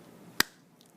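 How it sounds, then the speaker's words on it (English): A single sharp clap of two hands, crisp and close, standing alone against quiet room tone. "clap my hands together, then there's a force there when my hands are in contact with each other."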